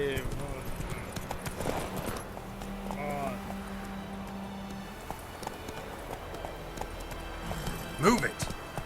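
Galloping hoofbeats of a horse in The Witcher 3 video game make a steady, rapid clip-clop at close range, running under a man's spoken lines and a brief whinny.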